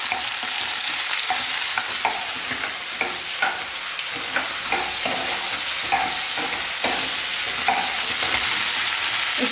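Chopped tomatoes frying on full flame in a kadai for kadai paneer: a loud, dense sizzle runs throughout while a ladle taps and scrapes the pan in a loose, repeated rhythm, with no voices.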